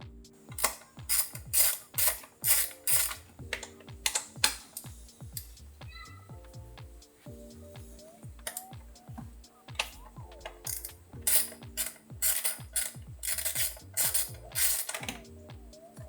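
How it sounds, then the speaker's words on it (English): A hand ratchet loosens the coil packs on a Toyota GR Supra during a spark plug swap, making repeated quick clicking bursts close by, with short pauses and a few light metallic taps between strokes. "now we can actually get to unscrewing these coil packs and start swapping out these spark plugs"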